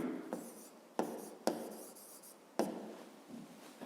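Pen or chalk writing during a physics lesson, quiet scratchy strokes in short bursts with a few sharp taps between them, close and alone with no talking.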